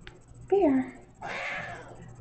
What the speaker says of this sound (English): If you hear meowing, that's Bear, my cat Bear.